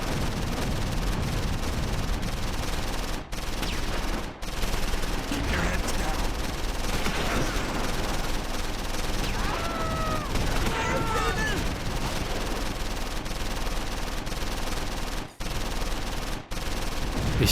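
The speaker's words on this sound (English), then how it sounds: "German armour is laying down heavy fire." German armour lays down heavy fire in the World War II game Close Combat 4, set in the Battle of the Bulge at Losheim. Sustained machine-gun rattle and gunfire roll on continuously with scattered heavier reports and faint voices mixed in.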